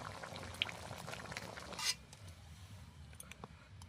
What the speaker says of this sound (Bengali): এরকম করে ফোটা শুরু হয়ে গেছে একটু ভালো করে ফুটিয়ে নিতে হবে